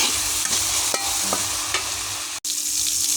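A spoon stirs frying spice masala with cinnamon in a pan, giving loud scraping strokes over a constant sizzle and one brief sharp break partway through, with no speech.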